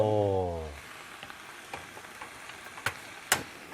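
Sesame oil poured into a hot pan with enoki mushrooms: a short pouring tone at first, then soft continuous sizzling with occasional ticks and clicks of utensils, close and fairly quiet.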